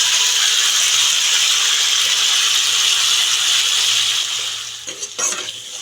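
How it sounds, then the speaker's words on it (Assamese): Steady loud sizzling of meat frying in a pan, with stirring scrapes near the end as the sizzle briefly dips. "মাংসখিনি ভালদৰে লৰাই দিছোঁ"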